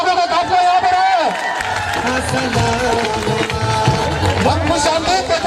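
Applause and cheering from an audience at an all-Sindh convention, a sustained wash of clapping and crowd noise running throughout alongside a speaker's voice over the PA and some music.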